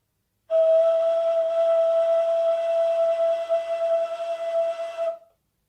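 One long, breathy ney reed-flute note held for about five seconds, steady at first then wavering slightly in strength before it ends.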